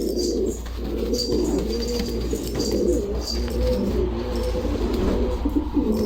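Fancy flight pigeons, pedigreed show birds with prized head crests and patterned backs, coo repeatedly up close in a steady, overlapping murmur of low throaty calls with no talking.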